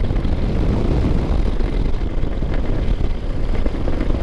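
A BMW R100GS Paris Dakar airhead motorcycle cruises along a road, its boxer engine droning steadily under heavy wind rush, loud and continuous throughout.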